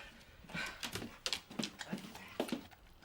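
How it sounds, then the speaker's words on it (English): A dog whimpers and pants close by in short, uneven bursts of breathy whines and gasps, fairly quiet, with faint background room noise. "That dog's got to go."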